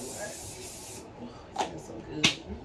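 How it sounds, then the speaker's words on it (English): Oil sheen hair spray hisses from an aerosol can in one steady burst lasting about a second, followed by a couple of soft, brief handling and rubbing noises close by. "Spread a little oil sheen. A little sheen sheen. I got this because it smells good. This can too. Oil sheen. I don't want to spray a lot."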